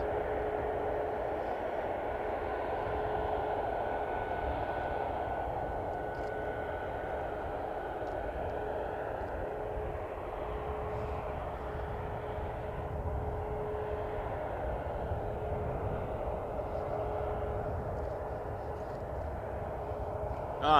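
A WestJet Boeing 737 MAX 8 in Swoop livery, bound for Regina, drones steadily at Toronto Pearson Airport on a night of Christmas Day, a continuous jet engine roar with a faint tonal whine holding level throughout.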